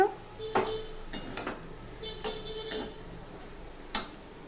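Dal, potato and banana stem being mixed in a pot for a no-onion, no-garlic summer dish, giving a few sharp ticks and clinks of a utensil against metal, quiet and spaced apart over a low background.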